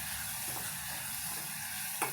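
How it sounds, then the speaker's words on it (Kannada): Chopped tomatoes fry in oil in a pan for dal tadka, giving a steady, close sizzle with soft stirring scrapes throughout and a brief clink near the end. "ಚೆನ್ನಾಗಿ ಫ್ರೈ ಮಾಡ್ತಾನೆ ಇರಬೇಕು"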